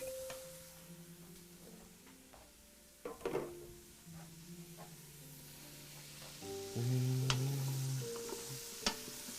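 Quiet sizzling of food in a pan, with occasional stirring clatter and a few faint tonal beeps in the background.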